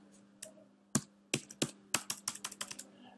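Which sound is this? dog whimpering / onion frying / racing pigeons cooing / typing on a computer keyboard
typing on a computer keyboard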